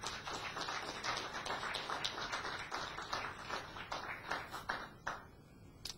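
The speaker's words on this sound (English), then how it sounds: "I think we can give them a huge clap." A fairly quiet round of clapping from a panel-discussion audience, with many hands in a busy, even patter that rolls on for several seconds before tapering off.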